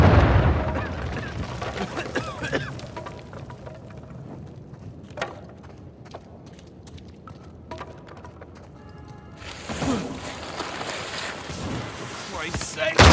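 Explosions and gunfire-like blasts in the PS5 remaster of Uncharted 4 as Avery's exploding mummies burst, loud booming bursts and crackling debris over a rumbling background, with a voice talking at times.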